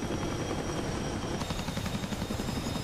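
A Chinook helicopter pounds with a dense, continuous rotor thrum as it flies away, loud and steady throughout the short stretch, with no voices over it.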